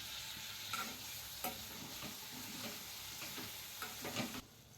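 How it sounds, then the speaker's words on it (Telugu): Tomatoes being stirred into a fish curry in a pan, a soft continuous sizzle broken by several scraping strokes of a spoon, fairly quiet and steady. "టమాటా వేసేసుకుంటున్నాం ఇప్పుడు కలుపుకుందాం"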